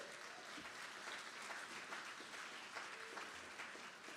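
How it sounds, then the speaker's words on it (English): Steady applause from an audience at an alumni showcase gala, a soft, even spread of many people clapping that continues throughout without a break, heard from a distance. "Can you give yourselves a round of applause real quick?"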